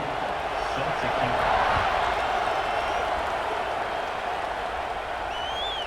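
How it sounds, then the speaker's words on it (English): A dense, steady roar of a large stadium crowd cheering and clapping at a night American football game, Orlando Apollos at Jacksonville Sea Dragons, loud and continuous throughout with no single voice standing out. "Night games are always so loud, so obnoxious, and these fans, they get something to cheer about"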